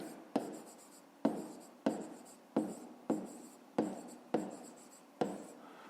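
A pen or pencil writes a math exercise solution by hand on paper, with eight distinct scratchy strokes at a steady rhythm, each starting sharply and fading, close and quiet, with no voices.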